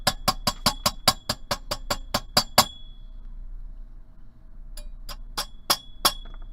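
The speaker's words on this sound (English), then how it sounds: "I can tap on that with my rawhide mallet if I need to" A rawhide mallet taps wire spirals while a fabricated wire diadem is being shaped: a quick, even run of about a dozen sharp metallic clinks, a short pause, then several more scattered taps, close and clear with no talking.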